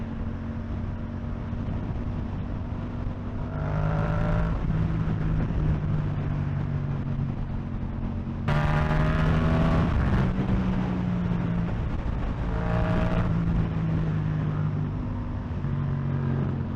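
A Yamaha MT-07 motorcycle accelerating hard at full throttle on a rough, patched road, its engine note climbing through the gears with loud revving surges and brief shift pauses, heard close with wind rush over the microphone.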